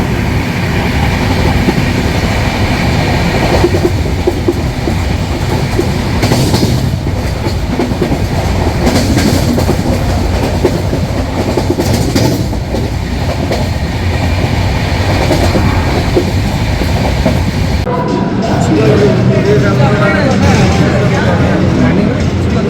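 The 12821 Dhauli Express runs through Panskura Junction, heard from on board in an AC chair car. It gives a loud, continuous rumble with rhythmic clickety-clack over the rail joints, and the tone shifts sharply near the end.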